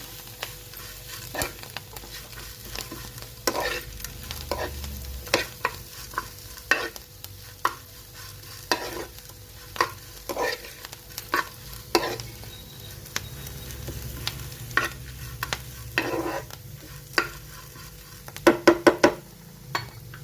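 Ingredients for a white-gelijeru chutney frying in a pan, stirred with a spatula: soft steady sizzling under regular scraping strokes, close and fairly quiet, with a quick cluster of clinks near the end and no talking.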